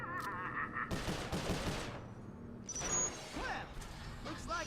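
Bursts of gunfire from the Sly Cooper game crackle through the first two seconds, mixed with voices and crashing game effects, then give way to quieter game sounds.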